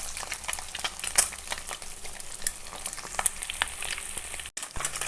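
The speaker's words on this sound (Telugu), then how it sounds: "ఎగ్స్ నురుగు వచ్చేస్తుంది, అందుకని చిద్రవ్వకుండా తీసుకోవాలి." Eggs fry in hot oil with a steady crackling sizzle and scattered pops and spatters, close by and continuous except for a brief dropout near the end, with no talk.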